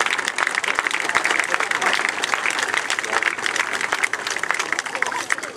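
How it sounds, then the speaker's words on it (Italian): An audience at a Ventimiglia town council event applauds maestro Coco's orchestra, with crisp individual claps standing out in a lively, uneven round that swells and dips, while a voice speaks faintly over it. "l'orchestra del maestro Coco, a cui va un nostro caloroso applauso"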